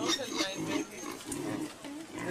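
A nursing sow with tusks grunts repeatedly in a nature park enclosure in Rotorua, New Zealand, a series of close, rough, low snorts.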